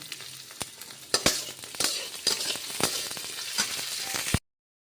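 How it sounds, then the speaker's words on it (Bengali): Onion, garlic and green chilli sizzle in hot oil for a shrimp mash, with a steady close frying hiss broken by sharp stirring scrapes and a few clinks of the utensil. "তেলের মধ্যেই এই পেঁয়াজ রসুন আর কাঁচা লঙ্কাগুলোকে সুন্দর করে ভেজে নেব"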